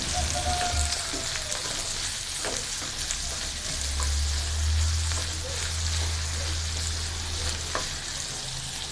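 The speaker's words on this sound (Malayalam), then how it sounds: "ഇത് നമുക്കൊന്ന് ഇളക്കി കൊടുക്കാം." Sliced onions sautéing in a pan while being stirred, a steady close sizzle with scattered scraping clicks from the stirring, no voices.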